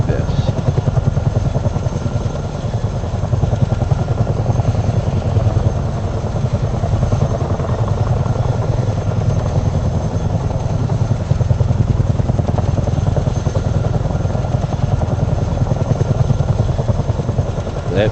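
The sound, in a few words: helicopters flying by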